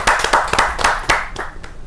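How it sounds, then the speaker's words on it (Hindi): At a Hindi poetry gathering, a small audience claps to welcome a poet with brief, close, distinct handclaps that thin out over two seconds. "जोरदार ताली के साथ हम स्वागत करते हैं"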